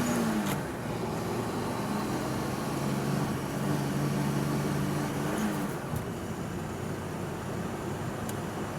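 A 1952 Studebaker Champion with a single-barrel carburetor drives in first gear, its engine giving a low, steady drone heard from inside the car. A faint humming tone fades out partway through, and nobody speaks.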